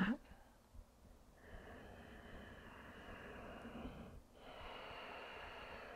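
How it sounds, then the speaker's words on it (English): Ujjayi breathing during a yoga practice, slow drawn-out airy breaths with a soft, hissing, ocean-like rasp, one long exhale then another, close and quiet. "In traditional yoga, we call this pranayama ujjayi breath."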